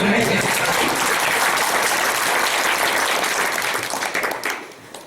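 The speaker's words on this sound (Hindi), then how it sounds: "तालियां, हम लोग तालियों से हमारा अवसाद बतन करें।" An audience at a Hindi devotional recitation breaks into sustained applause, loud and steady for about four seconds before fading out near the end.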